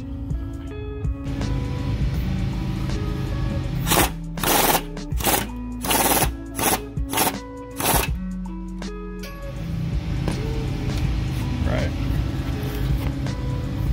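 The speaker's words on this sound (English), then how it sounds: "let's go ahead and throw an 18mm on the impact and start to lower these down, just a couple threads at a time" Impact wrench with an 18mm socket loosening rear sway bar bolts on a vehicle, firing in a string of about six short, loud rattling bursts close by, over a steady background hum with speech before and after.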